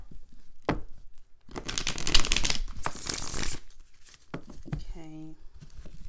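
Tarot cards riffle and crinkle in a burst of shuffling close by, with scattered handling clicks and soft rustles before and after, and brief voice sounds near the end.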